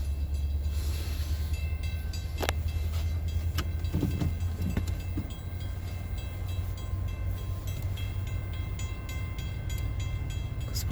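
Approaching Metro train: a heavy low rumble builds and holds, with scattered metallic clicks and squeals from wheels and rails running steadily, fairly close.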